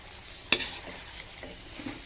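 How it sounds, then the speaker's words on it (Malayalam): Prawn and mango curry with coconut and dried prawns stirred from the bottom of the pot, a single sharp utensil knock followed by soft scraping and a low bubbling simmer, quiet and close. "ഇതിൽ നിന്ന് നമുക്ക് അടിയിൽ നിന്ന് ഇളക്കി കൊടുക്കാം"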